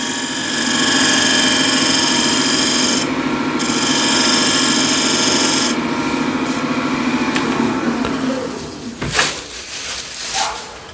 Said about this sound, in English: Or you can shear scrape as well.